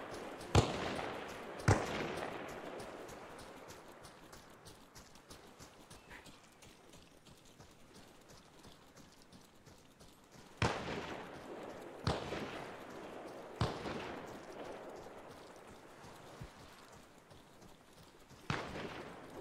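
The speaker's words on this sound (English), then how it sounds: "the sound of gunfire from a distance is really good" Distant gunfire in the game Arma Reforger, isolated sharp cracks and short bursts spaced seconds apart, echoing faintly over a quiet low ambience with no talk.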